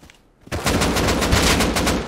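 Rust gunfire: after a brief near-silence, a loud, close burst of rapid automatic shots rattles out steadily for over a second and a half.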